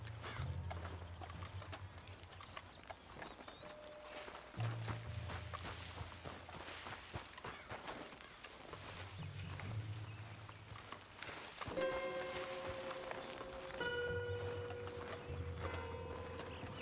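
A horse-drawn wagon approaching in Red Dead Redemption 2, with clip-clop hooves and creaking, rattling wooden wheels and tack, alongside low rumbling game ambience and some tonal music near the end.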